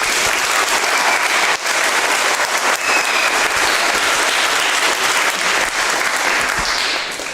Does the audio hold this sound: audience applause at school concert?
yes